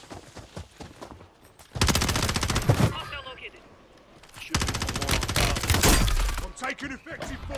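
Gunfire in the video game Warzone comes in two loud, sustained bursts of rapid automatic shots, separated by quieter stretches with voices and game sounds.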